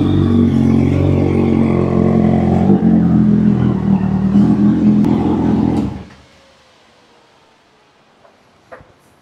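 A Bajaj Dominar motorcycle engine runs loud and close with a steady throbbing idle and slight revs, then cuts off abruptly after about six seconds, leaving near silence with a couple of faint clicks.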